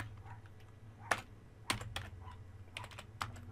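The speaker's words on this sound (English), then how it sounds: "so I'm going to type border" A few sharp keystrokes on a computer keyboard, tapped out singly with short pauses between them over a faint low hum, no voices.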